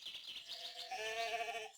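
Goat bleating in a children's story-CD sound effect of a fairy tale, a single wavering, nasal bleat sustained for nearly two seconds, clear and alone with no talk.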